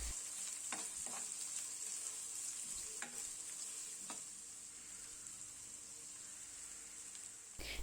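Three medium onions frying in a pan with two to three tablespoons of oil make a soft, steady hiss, with a few faint clicks from the pan early on.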